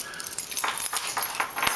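A set of house and gate keys jangles close up in several quick metallic bursts of clinking, with no talk over it.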